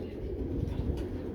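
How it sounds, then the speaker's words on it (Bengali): A high-flying Bangladeshi pigeon lands nearby with soft, low cooing and a faint flutter of wings against quiet outdoor background noise. "এই যে কবুতর নামতেছে দেখেন"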